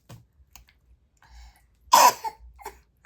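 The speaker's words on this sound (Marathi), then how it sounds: "खोकला होत आहे तुला?" A young child lets out a single close, forceful cough. Faint clicks and rustles sit around it in an otherwise quiet room.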